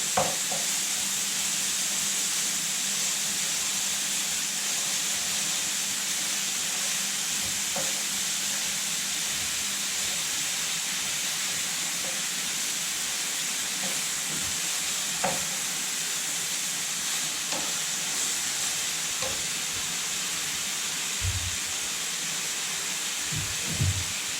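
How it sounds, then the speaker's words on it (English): Ground pork fries steadily in a pan, a constant bright sizzle and hiss throughout, with occasional soft scrapes and taps as a spatula breaks up the meat and the pan is shaken. "What I'm doing now is breaking up the pork. I put the spatula down onto the pork and then I give it a shake."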